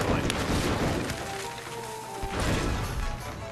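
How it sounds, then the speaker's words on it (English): Cartoon-style explosions from a touch-screen puzzle game in which gunpowder is lit, with two broadband booms, one near the start and one later, heard under ongoing talk. "Explosions are really sad when it's quiet."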